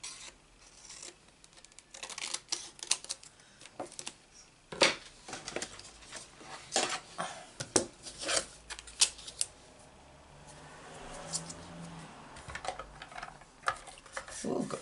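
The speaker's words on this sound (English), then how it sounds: "So we will cut this out." Paper being cut out by hand for a Stampin' Up card: a series of close, crisp snips and rustles at an irregular pace, with a short stretch of soft rubbing in between.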